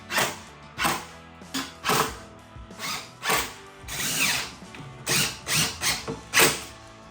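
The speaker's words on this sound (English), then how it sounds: "I used my 18 gauge pin nailer to hold pieces together while I inserted 2-inch spack screws for assembly" Power driver sinking 2-inch screws into cabinet panels, about a dozen short whirring bursts of varying length with brief pauses between, close and loud with no talking.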